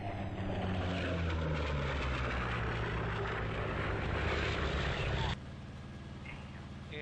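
A propeller aircraft engine drones loud and steady as the plane climbs in the IL-2 1946 flight sim, with rising harmonic tones, then drops abruptly to a lower, quieter hum near the end.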